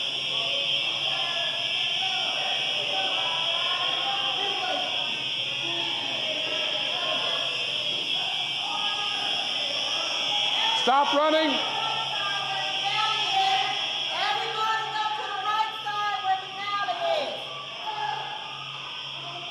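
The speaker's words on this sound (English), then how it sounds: "He says as the fire alarm stops ringing." A loud, steady electronic alarm tone rings continuously in a room, with several voices talking over it and some movement noise.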